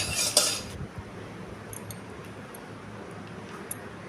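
Raw mango pickle with a roasted spice mix being stirred, a sharp metallic clink of a utensil at the start followed by quiet scattered ticks and scrapes against the pot.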